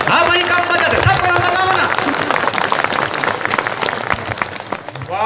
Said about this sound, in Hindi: तब ताली बजाओ एक बार